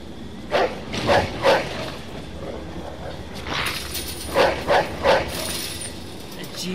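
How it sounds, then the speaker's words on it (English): In Mafia 2, a dog gives two separate runs of three quick barks, fairly close, over a steady background hum, with a voice talking in between. "Motherfucking dog, I'm gonna shoot him."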